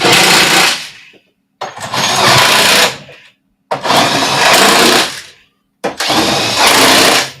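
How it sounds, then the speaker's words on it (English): A loud power drill runs close by in four long, harsh bursts of about a second and a half each, with brief silences between them. "The drill is super loud."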